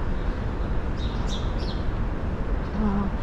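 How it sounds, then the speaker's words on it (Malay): Small birds chirping at the King Abdullah Expansion of Masjid al-Haram, a few brief, faint high chirps over a steady broadband hum of the large interior. "Lepas tu ada bunyi kicauan-kicauan burung."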